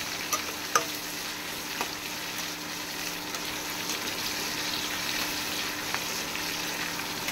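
Onions and dried red chillies sauté in a pan for an onion pakoda curry, making a moderate, even sizzle throughout with a few faint clicks of stirring.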